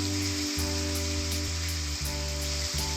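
A paste of tomato, onion, ginger and chilli sizzles and fries loudly in hot oil, a dense, steady crackle close up with a faint rhythmic hiss or clank running through it, and no voices.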